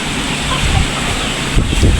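Strong wind buffets the microphone outdoors on a rural farm plot, a steady low roar with heavier gusts near the end, while chickens can be heard faintly in the background.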